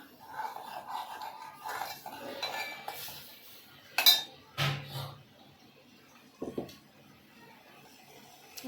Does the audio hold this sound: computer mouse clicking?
no